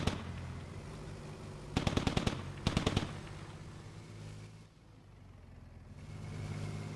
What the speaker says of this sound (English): The 50 cal shots firing from behind.